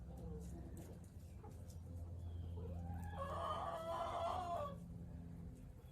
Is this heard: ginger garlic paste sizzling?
no